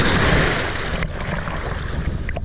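Sea waves washing ashore, a loud close rushing surge that recedes, with wind buffeting the microphone and no voices.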